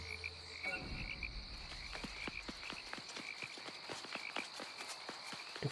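Frogs croak in a dense chorus, rapid repeated clicking calls in an uneven rhythm over a steady high drone, close and continuous throughout.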